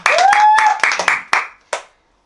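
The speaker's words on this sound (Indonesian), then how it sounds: "Tepuk tangan biar ada ini semangat." A small group claps their hands together in a handful of sharp, uneven bursts that trail off after about a second and a half, close and loud, with a rising whistle-like tone under the first claps.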